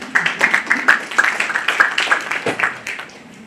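Applause from an audience at a community meeting in a school, a scattered run of claps building briefly and then thinning out, moderately loud and close, with no voices on top.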